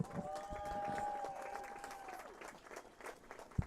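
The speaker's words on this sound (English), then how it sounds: "of applause for these amazing kids." Crowd applause at a high school football game between Port Allegany and Redbank Valley, a steady distant wash of clapping and cheering with a sustained tone over it and faint voices.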